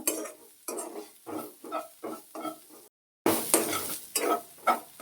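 Ingredients for a Kannada home recipe with banana flower and mustard dry-roasting and being stirred in a pan, a close scraping rhythm of about eight spatula strokes with a brief pause midway, with no talking.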